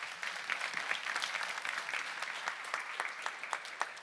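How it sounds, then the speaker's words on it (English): A conference hall audience claps for hackathon participants, with moderate, fairly distant applause in which individual sharp claps pop out across the whole span. "So a huge round of applause to all the participants."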